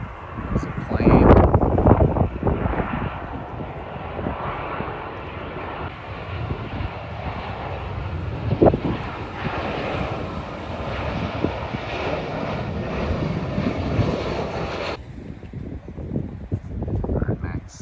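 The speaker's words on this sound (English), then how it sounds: "There's a plane." A propeller airplane drones overhead on a clear day on New Zealand's North Island, a steady mid-loud engine roar with wind buffeting the microphone.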